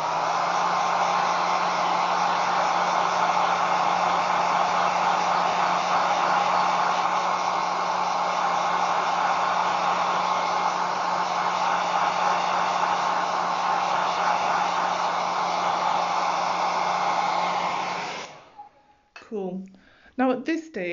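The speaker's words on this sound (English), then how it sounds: "I'm gonna just quickly dry that with my hairdryer." A handheld hairdryer blows steadily and loud at close range, drying paint on a slate coaster, a constant whooshing roar for about eighteen seconds before it switches off and a voice speaks briefly.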